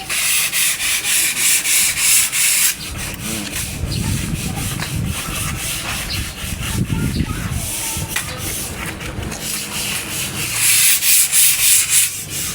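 Sandpaper wrapped around a block scrubs along the edges of wood molding in continuous, steady back-and-forth strokes, close up and fairly loud, with no talking.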